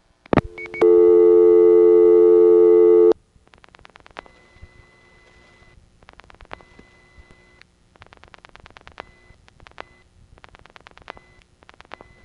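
Telephone special office code recording from a 1970 Kennedy Airport phone line: a sharp click, then a loud steady multi-tone signal for about two seconds, followed by a run of fainter clicks and brief tone bursts, with no voice.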